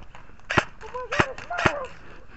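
Airsoft guns fire suppressing shots in a game, with three sharp, separate cracks about half a second apart at moderate distance over a quiet background.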